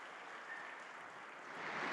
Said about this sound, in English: Please, I think we deserve a round of applause here.